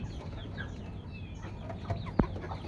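Domestic desi chickens clucking around a home farm, soft scattered calls over a steady low background hum, with one brief louder burst near the end; no talking.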